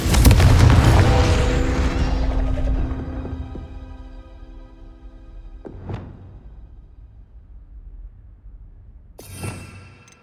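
A Confringo blast spell in Hogwarts Legacy opens with a loud, deep boom and a long rumbling decay. Two later, sharper bursts follow, each briefer and quieter than the first.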